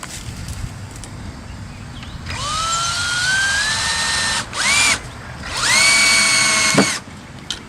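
A power drill drives 2.5-inch deck screws into a wooden fire pit bench, three rising whines of roughly a second or two each with short gaps between, loud and close over a quiet workshop background.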